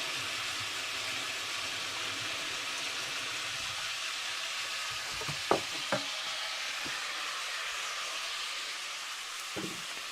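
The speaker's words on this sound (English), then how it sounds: "It just sizzles from the meat." Steady, even sizzle of meat frying in a pan, with a few faint clinks partway through.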